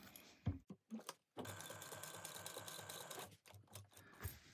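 A sewing machine bastes fabric in one faint, steady run of rapid stitching lasting about two seconds, framed by a few soft handling clicks and bumps.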